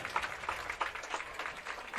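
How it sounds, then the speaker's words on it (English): A crowd at a Gilbert High School versus Algona varsity football game applauds an injured player as he walks off the field, a faint, steady patter of clapping from the stands. "Crowd giving him a clap as he goes."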